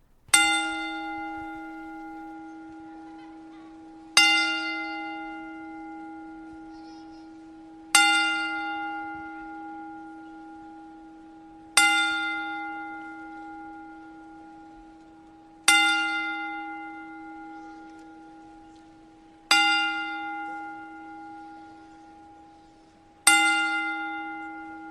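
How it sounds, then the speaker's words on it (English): A single church-style bell strikes seven times in the window at a slow, even pace about four seconds apart, each ring decaying fully before the next, clear and alone, as part of a ten-bell salute for a wrestler. "we want to pay tribute to Sabu with a 10-bell salute"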